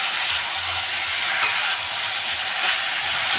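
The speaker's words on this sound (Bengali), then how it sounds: "এখন আমি ওটা নাড়াচাড়া দিয়ে একটু ভেজে তাতে জল দিয়ে দেবো" Spices frying in a pan while being stirred, a steady broadband hiss of sizzling oil with faint scraping from the stirring, continuous and fairly close throughout.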